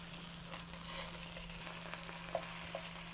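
Chicken breast stuffed with spinach and smoked Gouda frying in a pan just after being flipped, a steady soft sizzle with faint crackles throughout and a small pop near the end, no voices.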